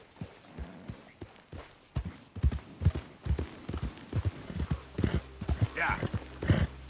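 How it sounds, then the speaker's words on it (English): A horse's hooves clip-clopping at a steady walking rhythm, close and distinct, with people talking over the hoofbeats. "Just admiring your horse there."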